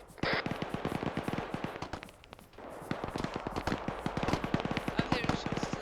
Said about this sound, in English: I'm hearing shots to the right.